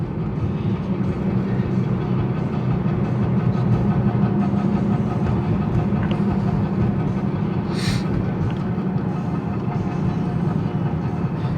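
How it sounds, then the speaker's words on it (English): A cheap car driving with a wheel rubbing, heard as a steady, loud road and drivetrain rumble that runs unbroken throughout, with a brief higher scrape near the end. "Let's get this rubbing noise fixed."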